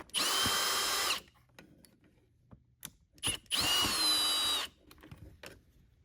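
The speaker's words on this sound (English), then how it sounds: "You have these two screws here. We're just going to remove those with a Phillips." A Phillips bit backs two screws out of a Eureka Airspeed vacuum: two loud, close whirring bursts of about a second each, separated by quiet handling clicks.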